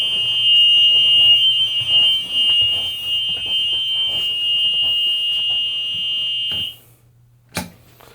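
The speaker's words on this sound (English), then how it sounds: "That buzzer means you got to come back here and hit this button" A school bus child-check reminder buzzer sounds with the engine off, a loud continuous electronic tone that holds steady for several seconds, then cuts out, followed by a single short click.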